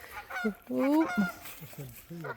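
Several nasal honks from geese at a wetland sound in quick succession, fairly close and loud, with irregular calls overlapping one another.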